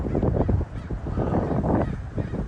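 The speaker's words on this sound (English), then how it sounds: "These birds trying to run off a hawk." Outdoors, a flock of birds gives harsh, overlapping calls while chasing off a hawk. The calling is continuous and fairly loud against a breezy background, with no talking.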